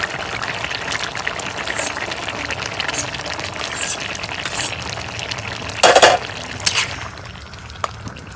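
Fried small puti fish going into a curry of red amaranth greens in a pan, with steady oily sizzling and stirring scrapes, plus a brief louder splash and clatter midway.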